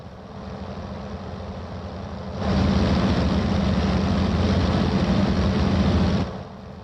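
Globe Swift piston aircraft engine in Microsoft Flight Simulator drones at a steady throttle setting, stepping up louder for several seconds and then dropping back to a quieter hum.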